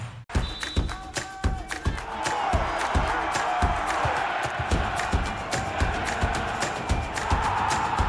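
Stadium crowd cheering and whooping at a women's international soccer match, Canada against Australia, a dense, sustained roar with scattered claps and shouts that swells and holds loud throughout.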